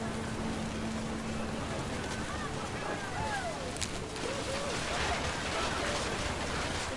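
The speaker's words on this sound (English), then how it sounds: "The rain came down in buckets then" Heavy rain in the video game What Remains of Edith Finch pours down as a steady broadband hiss, with faint tonal music and swooping game sounds drifting over the downpour.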